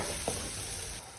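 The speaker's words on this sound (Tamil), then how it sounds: "நல்லா வதக்கி விட்டுக்கோங்க." Steady sizzling and frying crackle of spices and chili powder sautéing in hot oil for a fish curry, close and continuous, with no voices.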